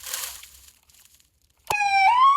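A toy ambulance siren in an animated cartoon starts suddenly after a soft whoosh and a short silence, then holds a loud, rising electronic wail until the end.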